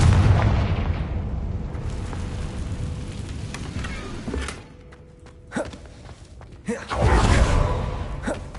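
A Confringo blasting curse explodes in a wizard video game, giving a loud, broad, rumbling blast that slowly fades, followed by scattered crackles and then a second heavy burst near the end.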